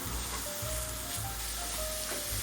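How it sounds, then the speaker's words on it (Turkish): Flour toasts in a pan for onion soup with a continuous, close sizzle and some faint scraping of stirring, and no one talks over it. "O şekilde biraz kavuracağız unumuzu."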